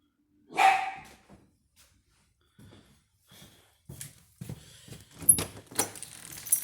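A grumpy pet dog kept behind baby gates in a house gives one sharp bark, then after a pause snorts and barks in short scattered bursts, with some door-like clatter and no talking.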